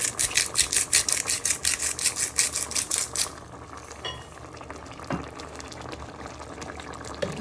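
A spoon stirring a squid and chorizo casserole in a pot, with a rapid, rhythmic scraping at first that gives way to quieter, irregular clinks and bubbling.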